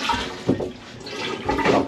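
A sailboat's marine toilet is pumped and flushed, giving a close, continuous sloshing rush of water with a couple of louder gurgling surges.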